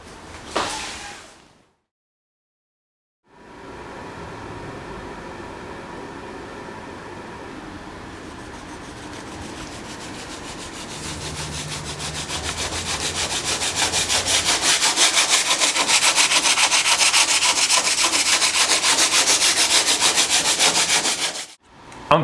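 Steady, rhythmic rasping of sanding goes on for a long stretch on an RV-7A aircraft canopy, growing louder partway through, with no talking.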